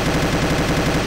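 Rapid automatic gunfire from the Siren Head video game rattles on loudly and continuously in an even stream of shots, alone with no talking.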